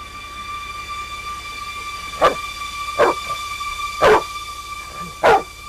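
A dog barks four times at slow, uneven intervals, loud and close, over a steady electrical hum.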